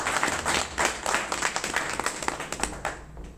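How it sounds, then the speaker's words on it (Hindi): Seminar audience in Bhiwani, Haryana breaks into steady hand-clapping applause, a dense mid-sized crowd sound carrying evenly throughout with a few sharper claps standing out near the end. "सर के लिए ताली बजाओ रहे साथी हमारे।"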